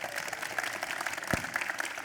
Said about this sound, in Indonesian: Kasih tepuk tangan dong sekali lagi.